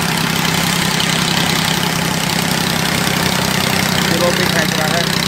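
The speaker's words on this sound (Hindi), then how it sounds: "डायरेक्ट है एकदम पाइप वाला, आवाज बड़ी धमाके निकालता है" A loud tractor engine with a straight exhaust pipe idles with a rough, steady low chugging, constant and close, with no clear words.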